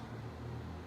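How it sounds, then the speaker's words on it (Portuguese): A car passes by on a street, heard as a steady low rumble that stays fairly even through the short moment, with no talk over it. "Outro carro."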